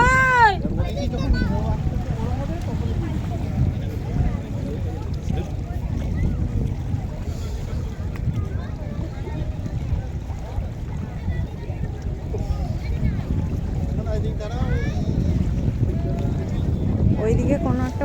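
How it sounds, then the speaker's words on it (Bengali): A motorized bhotbhoti boat drones faintly in the distance on the water, a low continuous rumble mixed with wind buffeting the microphone. "ওইদিকে কোনো একটা ভটভটি আসছে কিন্তু দেখা যাচ্ছে না"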